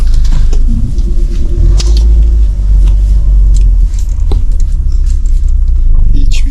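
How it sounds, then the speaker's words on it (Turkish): A car approaches from the opposite direction on a narrow road near a busy camping area between Karasu and Kefken, its engine a steady, close, low rumble under people talking nearby. "Aha karşıdan bir araç geldi."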